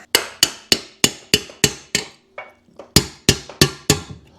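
A hammer strikes metal about a dozen times in a quick, steady rhythm, each blow a sharp, ringing clank up close.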